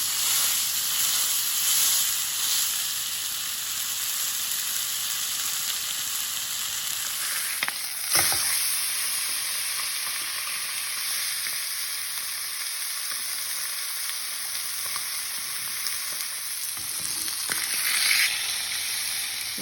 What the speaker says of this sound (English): In the same pot that I fried my onion, I'll be putting in my pork belly.